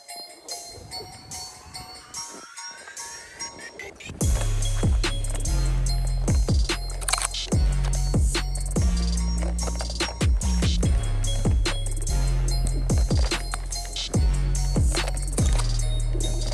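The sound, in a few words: MTEN 4 mini electric unicycle riding a snowy trail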